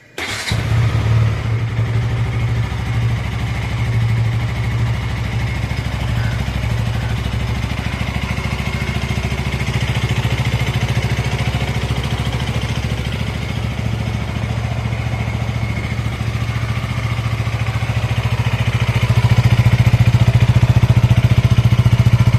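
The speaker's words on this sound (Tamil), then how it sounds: "இதோட சவுண்டு, இன்ஜின் சவுண்டு எப்படி இருக்குன்னு செக் பண்ணிடலாம்." A KTM Duke 200 BS6 motorcycle engine sputters to life, then runs at a steady, throbbing idle for a long stretch before revving up louder toward the end.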